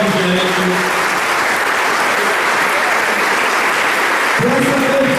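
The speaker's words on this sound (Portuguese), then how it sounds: "eu convido a todos nós a dar uma salva de palmas para as nossas mães" A congregation at an early Sunday Mass in Easter season gives a sustained, dense round of applause for mothers, loud and even throughout, with a voice briefly heard near the end.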